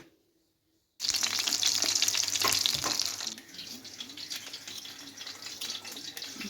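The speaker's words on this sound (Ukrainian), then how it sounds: "Я там жарю котлетки по якомусь новому рецепту" Cutlets frying in a pan give a bright, close sizzle that starts abruptly after a second of silence, loudest at first and then settling to a softer steady crackle, with no voices.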